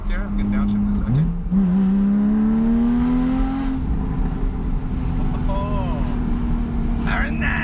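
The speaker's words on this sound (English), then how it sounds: "I'm gonna downshift a second." A Porsche 911 Carrera S with a TechArt exhaust downshifts with a quick blip, then the engine tone climbs steadily as the revs rise and settles into a loud drone, heard from inside the car with people talking over it.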